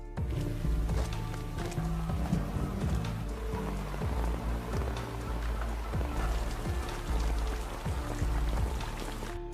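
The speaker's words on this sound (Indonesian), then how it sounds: "Di hujan yang sangat deras" Heavy rain pours steadily throughout in a dramatic school-gang fight scene, a dense continuous wash of drops mixed with a music bed and scattered thuds.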